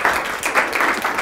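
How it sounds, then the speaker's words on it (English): A brief burst of audience applause at a talk in Austin, many hands clapping loud and close, dense and continuous with no one speaking. "Let's give her a big round of applause."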